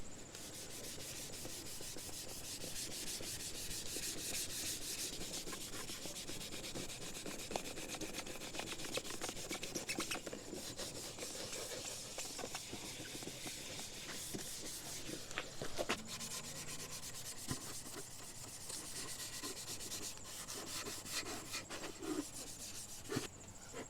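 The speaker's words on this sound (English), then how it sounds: "scuffing it down with red Scotch-Brite, which is equivalent to about 400 grit" A red Scotch-Brite pad, about 400-grit equivalent, scuffs car paint in steady close-up rubbing strokes that continue unbroken for the whole stretch, with no talking.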